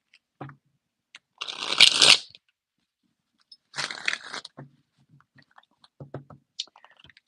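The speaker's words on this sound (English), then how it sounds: "All right, one more shuffle to do it." Two bursts of riffling cards, each a rapid fluttering rush lasting about a second, with soft taps and handling clicks in between; no talking.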